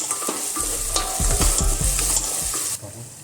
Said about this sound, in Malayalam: അത് നന്നായി മിക്സ് ചെയ്യും.